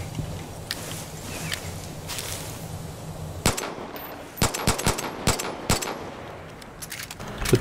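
Gunfire in the Far Cry 5 video game: after a few seconds of background ambience, a rapid series of sharp, loud shots rings out in quick bursts, some close together, others spaced apart.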